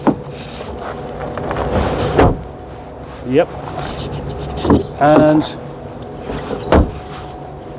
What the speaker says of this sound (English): A good 75 will have really nice door shut sounds.